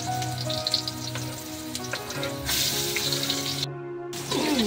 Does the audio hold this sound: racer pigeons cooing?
no